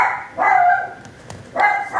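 A dog barks close by in drawn-out, whining howl-like barks, two loud calls with a quieter pause between, no speech over them.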